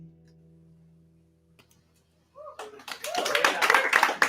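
An audience breaks into loud applause after a live song. The clapping starts about halfway through, after a quiet stretch with a low hum, and swells into a dense, sustained burst that runs to the end.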